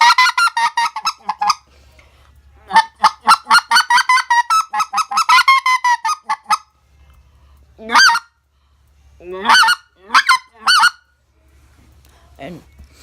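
A specklebelly goose call blown up close gives rapid runs of short honking clucks, then pauses and a few scattered low-pitched clucks, loud and clear with no talking.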